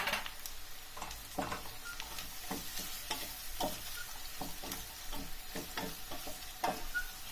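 Carrot and capsicum pepper sauté in a pan, giving a quiet, steady sizzle broken by frequent light scrapes and taps of stirring, close by and with no one talking.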